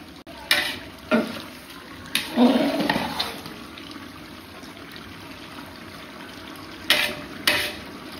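A large pot of chicken dum biryani is stirred, with a few separate scraping, swishing strokes close by and quiet pauses in between.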